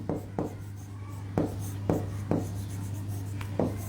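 Chalk or marker writing on a board during a Bengali spelling lesson, heard as a series of short scratchy strokes spaced irregularly over a steady low hum, with no speech.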